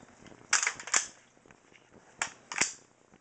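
A toy rifle is flip-cocked Terminator-style, giving sharp mechanical clacks close by in two quick pairs with quiet gaps between them and no talk.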